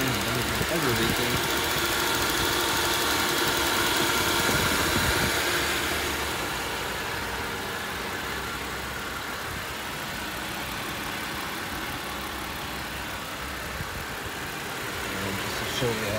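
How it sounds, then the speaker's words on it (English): A 2006 Buick LaCrosse with low mileage idles smoothly, a steady close engine hum running throughout, while someone talks over it. "The car is running right now, nice and smooth."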